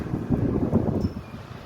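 Wind gusting through a small home garden with a star gooseberry tree and vegetables before rain, a brief blustery rush of breathy noise buffeting the microphone, close and moderately loud.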